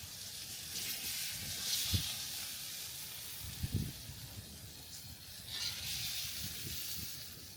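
Steak seasoned with pepper sizzling in a pan at an outback campsite, a steady soft hiss with a few brief pops and crackles.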